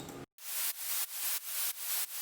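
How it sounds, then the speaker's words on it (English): A layer of white noise in a happy hardcore drop, rising in a steady series of about six hissing swells. Each swell is bright and loud, and there is no voice. "I also added another layer of white noise"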